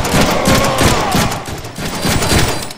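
Gunfire in the Deadpool video game, a dense run of loud, rapid shots and impacts layered over game sound effects, with no talking.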